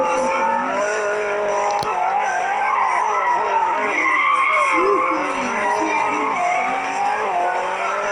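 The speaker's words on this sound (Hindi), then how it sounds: "हमें गाड़ी बहुत तेज चल रही है।" A car driving fast and skidding, tires squealing in long wavering screeches over a loud, steady engine roar, close and sustained throughout.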